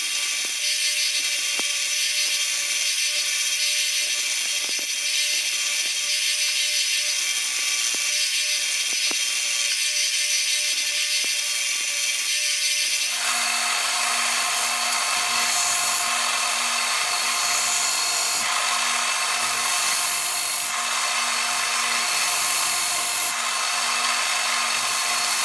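A 1-inch belt sander with a backing board grinds pits and dings from a screwdriver shank, giving a continuous loud abrasive whir that grows harsher and brighter about halfway through as more pressure goes on the metal.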